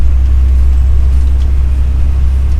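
A car drives along a road, a steady, loud low engine rumble and road drone that holds even throughout, with no voices.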